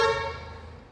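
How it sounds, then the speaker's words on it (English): A 2012 Hyundai Santa Fe sounds a single short horn beep confirming the doors locked by key fob, a bright toot that fades quickly, alone with no talk. "I did get the beep confirmation"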